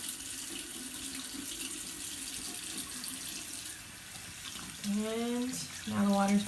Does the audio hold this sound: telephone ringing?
no